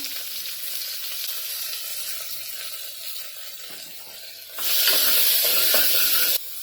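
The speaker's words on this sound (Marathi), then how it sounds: "तूप गरम झालं ना की आपण जिरं टाकून घेऊया आणि आता ना कांदा टाकायचा" Onion frying in hot ghee with cumin, a continuous close sizzle that swells into a louder burst of hissing spatter as the onion hits the pan, then settles back, no voices.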